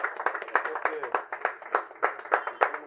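An audience clapping in a steady, rhythmic pattern at a spoken public gathering, with voices carrying over the applause.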